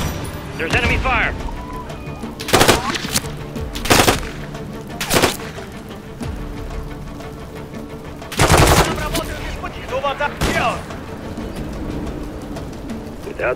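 Enemy gunfire in Call of Duty: Modern Warfare III erupts in several loud bursts of rapid automatic shots, spaced a few seconds apart, over a busy mechanical background with voices.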